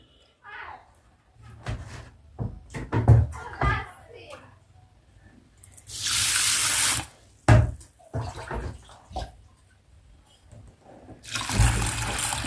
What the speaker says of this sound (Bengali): দুই রকম ডালটা আমি এখন ভিজাবো